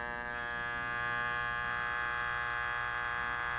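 Wahl Homecut electric hair clipper buzzing steadily after its power screw is turned clockwise, a constant close mechanical hum with a faint periodic tick, heard alone.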